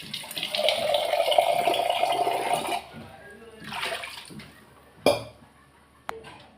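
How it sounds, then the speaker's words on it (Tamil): Water pours steadily into a pot of mint rasam being cooked with tamarind, a close, running splash for a few seconds, followed by softer handling noises and a couple of sharp knocks. "கொஞ்சம் தண்ணி மட்டும் ஊற்றிக்கலாம்."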